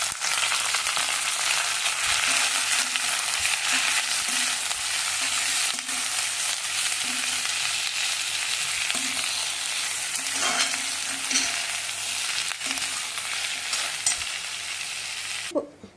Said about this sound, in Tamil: 2 பெரிய வெங்காயம் சேர்த்தாச்சு.